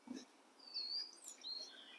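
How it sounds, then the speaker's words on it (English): Faint bird chirps and thin whistled calls come in a few short bursts from a distance over a quiet outdoor background. "Birds are singing."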